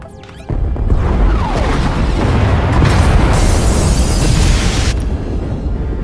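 Massive explosion destroying escape pod bays on a ship in Star Wars: The Old Republic, a loud roaring blast that erupts after a short lead-in and rumbles on with crashing debris before fading slightly.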